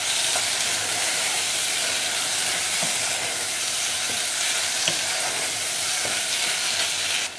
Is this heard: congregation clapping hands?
no